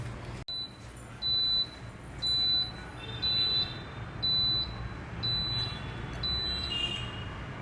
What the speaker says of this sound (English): you heard the beep sound also